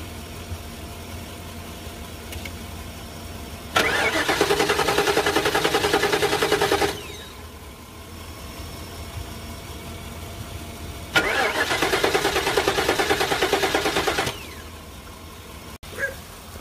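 A Ford Crown Victoria engine cranks without catching in two long bursts, each a loud rapid starter-motor churn lasting about three seconds, separated by quiet pauses with no firing or idle afterward.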